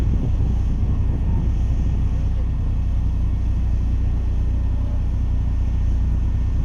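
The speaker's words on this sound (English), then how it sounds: "currently on the start line, we've got Alex Allbaugh in the 94 Mazda Miata" A 1994 Mazda Miata idles at the start line of a Highlands Sports Car Club autocross, its low engine rumble steady and continuous under some wind noise.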